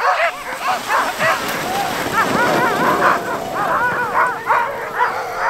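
Sled dogs on a team pulling a dog sled near Sisimiut, Greenland, bark, yip and whine almost without pause, close and loud. A steady run of excited calls comes over wind and sled noise, with a little talk mixed in.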